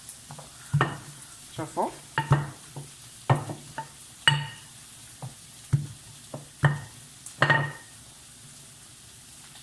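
Panini dough cooking in a very hot pan gives a series of short sizzling bursts and scraping stirs in an irregular rhythm, with a voice briefly speaking.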